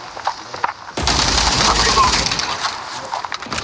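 Rapid bursts of gunfire from a gun in the World War Heroes video game, sustained and dense for several seconds after a quieter start, with someone talking over it.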